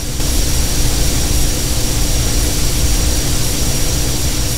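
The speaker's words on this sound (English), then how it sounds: "Dude, LMB, that thing is incredibly fast. Beautiful plane." A video game airplane roars past, close and loud, with a dense, steady jet-like engine drone that holds for several seconds and no speech over it.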